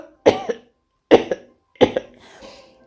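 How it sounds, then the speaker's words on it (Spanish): A man coughs three times in heavy, rattling bursts, each followed by a short wheezy catch of breath, close and alone with silence between the fits. "Valam volvió a toser con grandes estertores."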